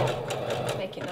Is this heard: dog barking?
no